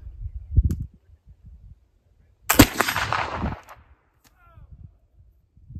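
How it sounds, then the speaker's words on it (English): A single black powder gunshot is fired into a long hay bale outdoors, a sharp loud blast with a brief rumbling tail, set between quiet stretches with faint speech before and after. "Shot number four with the long mill hay bale."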